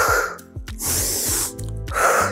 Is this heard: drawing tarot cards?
no